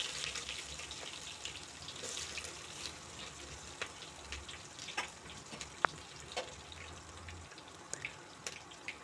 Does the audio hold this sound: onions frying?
yes